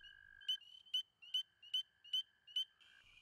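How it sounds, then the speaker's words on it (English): Spring frogs calling for mates at a vernal pool in a wetland, with a steady series of about six high, sharp peeps from spring peepers repeating at an even pace over a continuous trilling chorus. "Three species of frogs have arrived calling for mates, including spring peepers."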